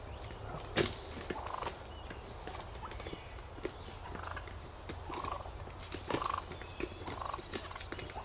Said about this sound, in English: There's some very good clucking and purring vocalizations coming up.